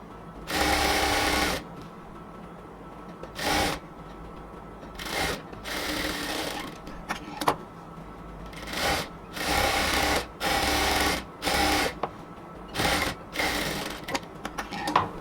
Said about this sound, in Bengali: জয়েনে জয়েনে ম্যাচ করে এবার সেলাই করে নিচ্ছি।